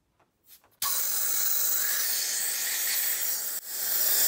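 Air rushes in a loud, steady hiss through a flipped Elite Engineering high-flow catch can valve after a few faint clicks, breaks off for a moment, then surges back even stronger.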